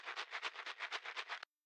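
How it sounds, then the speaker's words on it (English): Filtered low rattle shaker with a Foley texture, part of an Afro House production, shaking in a tight, even pattern of roughly a dozen close strokes before stopping abruptly. "Really Foley, rattle kind of shaker"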